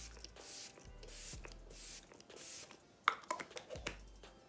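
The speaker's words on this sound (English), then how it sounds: "I'm just going to apply my Lasting Fix setting spray." Lasting Fix makeup setting spray misted from a pump bottle in several quick, soft hissing bursts at close range, separated by brief pauses and light handling noises.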